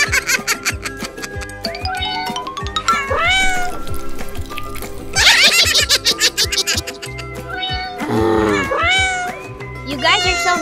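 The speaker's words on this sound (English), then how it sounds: "Evil cat." A cat meows repeatedly in loud, drawn-out, rising cries at close range, with several overlapping yowls and background music tones between them.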